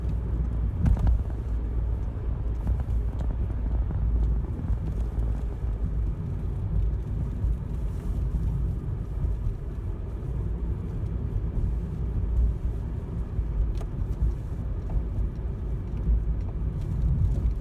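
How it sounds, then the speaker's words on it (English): Cars moving through a small hamlet, a steady low rumble of passing vehicle traffic with engine drone and wind buffeting, continuous and fairly close throughout. "For a small little hamlet, there are a lot of people moving their vehicles. There's traffic here."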